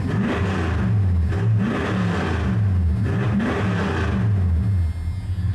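A truck engine runs close by and revs repeatedly in steady rising-and-falling surges after being restored to good running order, loud and alone with no talk.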